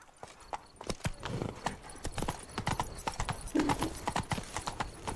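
Roach, the horse in The Witcher 3 game, gallops at speed with rapid, loud hoof clops in a running rhythm, close by, and a brief whinny rises partway through.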